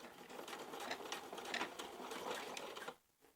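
A sewing machine stitches side pockets on dungarees, a steady rapid mechanical chatter at close range that runs continuously before stopping abruptly, leaving near silence.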